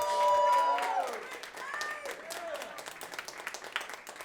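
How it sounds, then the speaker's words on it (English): Applause from a panel-discussion audience at an Earth Day creative salon, fairly quiet and mixed with voices and chatter, starting with a fuller burst before thinning into scattered claps. "Let's clap it up for"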